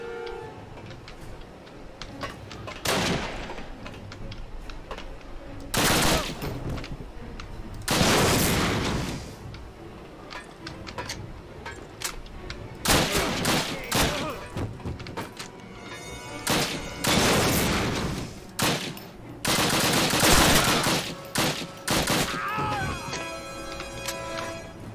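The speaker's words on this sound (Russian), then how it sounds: "Кто-то где-то стреляет." Call of Duty gunfire crackles in repeated bursts, loud clustered volleys with rapid shots and short gaps between, spread across the whole stretch with no talking.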